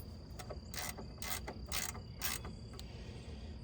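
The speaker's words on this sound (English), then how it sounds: "Good old ratchet wrenches." A ratchet wrench turns a bolt during radiator work on a Mazda RX-8, a quiet close burst of rapid clicking strokes repeated several times in quick succession, with no speech.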